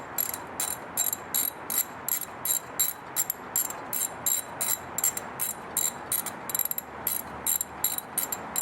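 A ratchet wrench clicks steadily as it turns a socket, a rapid train of bright metallic pawl ticks in repeated bursts with brief pauses, close and clear with no talking.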